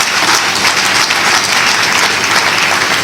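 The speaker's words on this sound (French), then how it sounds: "je vous prie d'applaudir encore une fois le chœur Regina Mundi" Audience applause for the Regina Mundi choir at an evening eloquence event in Lubumbashi, Congo, a dense, loud, continuous clapping from a large crowd throughout.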